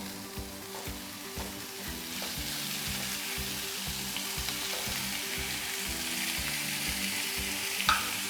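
Chicken mince frying with onion in a pan, a continuous loud hiss and sizzle throughout with a faint clatter near the end, no talking.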